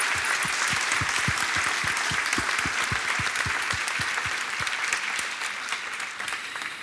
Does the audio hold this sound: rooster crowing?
no